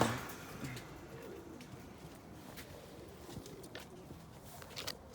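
Pigeons coo softly in a loft, low repeated calls over a quiet background with faint rustling and shuffling of birds nearby.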